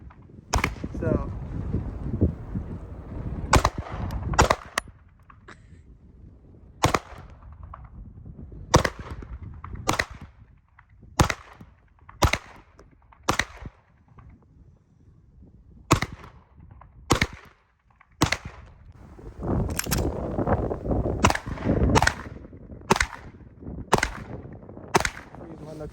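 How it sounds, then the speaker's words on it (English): Sig Sauer P226 Legion 9mm pistol shots ring out outdoors in cold wind, about twenty sharp loud cracks fired singly and in quick pairs with irregular pauses, over wind noise and faint background murmur. "just got done shooting the Sauer P226 Legion"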